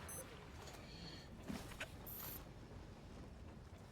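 Creaks and metallic mechanical clanks come from a train in the Metro Exodus video game. A few short squeals and rattles sit over a low, steady rumble, quiet and somewhat distant.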